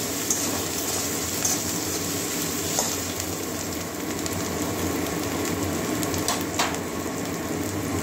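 Chopped tomatoes fry in a pan along with ginger garlic paste, giving a continuous, even sizzle at close range with a few faint scraping touches from stirring.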